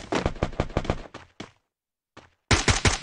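Rapid bursts of automatic gunfire from a shooting video game crackle loud and close, a long rattling volley, a brief pause with a few isolated shots, then another fast burst.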